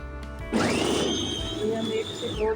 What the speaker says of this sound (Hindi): अब हम इसे चॉपर में डालेंगे इसको। इसमें हमने चॉप करनी है प्याज।